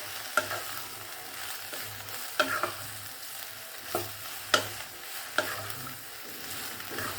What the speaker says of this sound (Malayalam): കറിവേപ്പില, ഇനി എല്ലാം കൂടെ നല്ലവണ്ണം വഴറ്റുക.